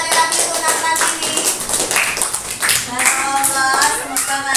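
A classroom of pupils claps for a child in quick, uneven bursts of close handclaps, with a few young voices mixed in.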